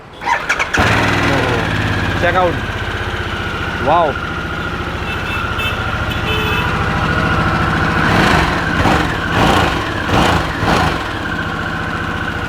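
A big Harley-Davidson motorcycle engine cranks and catches, then settles into a deep, loud, lumpy idle with a few throttle blips, while people talk briefly nearby.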